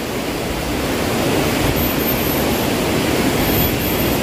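Rushing river water flows right beside a riverside house, a steady, loud, broadband roar that holds unbroken and unchanging from start to finish with no voices.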